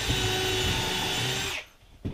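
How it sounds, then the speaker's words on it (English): A power drill drilling holes in wood whines steadily at close range for about a second and a half, then stops abruptly, followed by a short knock. "So now I'll go through and drill some holes"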